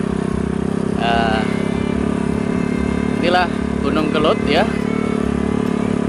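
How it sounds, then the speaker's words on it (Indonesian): An old motorcycle engine runs steadily while riding toward Mount Kelud, a loud constant low drone throughout, with someone talking over it. "saya juga harus berjibaku dengan mengendarai motor tua ini ya"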